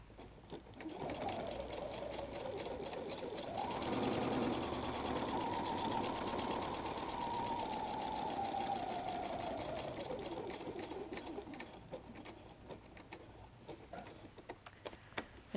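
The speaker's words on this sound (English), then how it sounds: "I've repositioned my work so that I can baste across the bottom of the pocket" A sewing machine bastes across the bottom of a messenger bag pocket at stitch length 3.0, with a steady close hum and rapid ticking that swells and holds for several seconds, then winds down to scattered clicks.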